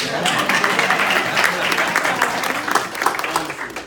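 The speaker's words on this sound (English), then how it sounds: "Let's clap for Phil, please." Keynote audience at a motivational conference applauding for a man seated beside his wife, a dense, steady wash of many hands clapping close and loud for about four seconds.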